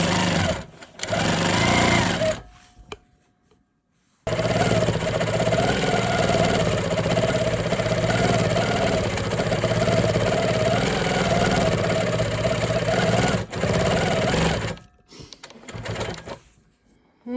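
A Janome Quilt Maker Pro 20 long-arm quilting machine stitches quilt-as-you-go strips. A fast, buzzing motor and needle run continuously for about ten seconds, close and loud, with shorter bursts of stitching and brief pauses before and after.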